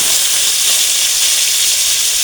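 Potato pieces frying in hot mustard oil for a mutton curry give off a loud, continuous, bright sizzling hiss, close up and steady, with no voices over it.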